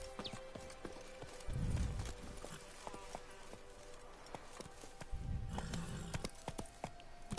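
Horse hooves clip-clop in The Witcher 3 in two separate bursts of steady trotting, moderately close, with faint background game ambience and a voice speaking between them.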